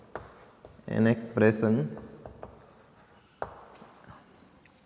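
Marker or chalk writing on a board during a Hindi-language maths lecture on polynomials, soft scratchy strokes mixed with a man's speech that dominates the middle of the clip.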